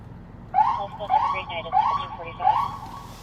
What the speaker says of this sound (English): Siren's the other one.